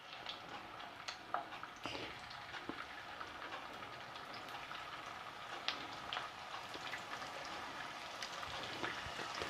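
Cauliflower fries in hot oil in a kadai, giving a faint, steady crackling hiss with scattered tiny pops throughout, heard from nearby without any talk.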